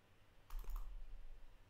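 A computer mouse gives a quick soft double click during a football player-positions programming demo, faint against a low room hum, with no talk.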